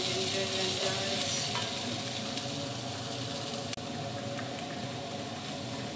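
Ginger frying in a pan for lamb leg soup, a steady close sizzle and crackle running continuously with faint bubbling and no voices.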